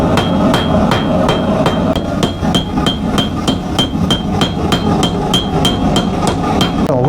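An apprentice blacksmith at a forge hammers metal on an anvil in a steady, quick rhythm of loud, ringing clangs that continue for several seconds over the workshop's background noise. No one speaks.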